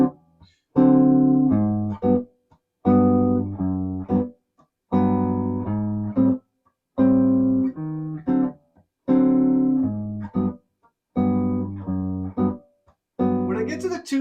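Clean guitar plays a ii-V loop built from six-string chord voicings with walking bass notes, sounding in short rhythmic phrases of strummed chords and bass movement separated by brief gaps.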